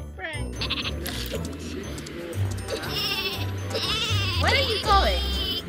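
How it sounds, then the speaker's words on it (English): Sheep in a video game bleat several times in quick, wavering calls, rising over steady game background noise while people talk throughout. "You dumb fucking sheep"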